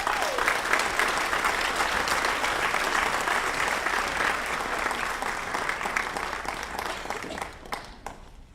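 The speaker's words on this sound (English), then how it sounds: "Please give them a round of applause." Audience applause at a high school awards night, a dense, steady wash of clapping from a large crowd that holds for several seconds and then thins and tapers off near the end.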